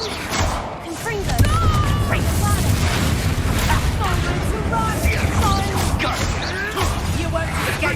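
In the Hogwarts Legacy video game, Confringo spell explosions burst in rapid succession amid game effects, booming thuds and crackling blasts layered with busy combat noise and overlapping voices.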